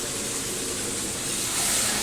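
Fish frying in a pan in a home kitchen, a steady loud sizzling hiss that swells slightly toward the end.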